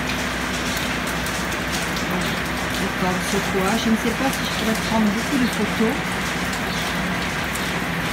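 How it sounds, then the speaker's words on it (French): Heavy rain pours steadily along a coastal walking path at Sokoa on the Basque coast, a dense wash of drops with someone talking over it throughout. "Parce qu'il pleut vraiment, je suis trempée."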